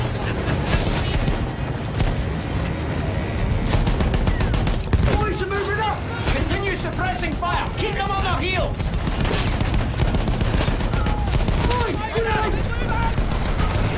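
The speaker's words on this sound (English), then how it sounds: "The hell is throwing grenades?" Battlefield 1 combat with dense rolling gunfire and grenade explosions, constant loud booms and rattling shots filling the scene while voices shout over the battle.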